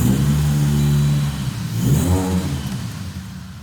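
A Saturn with a swapped-in LS V8, big cams and boost revs loud and close right after starting, the engine note rising, dropping and climbing again with a rough, lumpy idle character and no voices.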